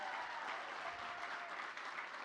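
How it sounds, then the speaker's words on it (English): Crowd applause at a Republican political victory rally, a brief, steady wash of clapping heard at a distance and fairly faint. "Give them a round of applause."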